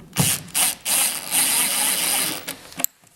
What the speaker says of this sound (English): Now I'll wind the other screws in as well.